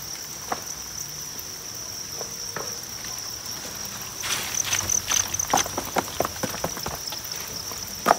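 Crickets chirping on a Vietnamese cricket farm, a steady high-pitched trill running throughout, joined halfway by busier rustling and clicking bursts with a few sharp ticks.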